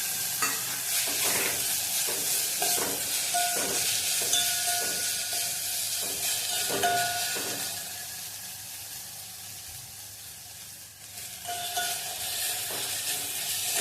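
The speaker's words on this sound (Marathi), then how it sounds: "किसून घेतल्याचा रताळ्याचा खीस 1 मिनिट भाजून घ्यायचा आहे चांगला" Grated sweet potato roasts in hot ghee in a pan, sizzling steadily while a utensil scrapes and stirs in a quick, repeated rhythm up close.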